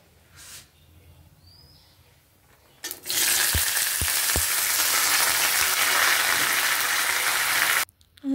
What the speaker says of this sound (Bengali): আমি সুন্দর করে লাল লাল করে ভেজে নেবো এবার এগুলোকে।